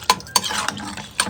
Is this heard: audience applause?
no